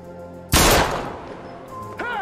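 A single sharp, loud gunshot rings out in the horror game Little Hope, cutting through a quiet scene and leaving a short echoing tail, followed by a voice starting to speak.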